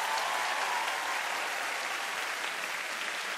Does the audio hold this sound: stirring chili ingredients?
no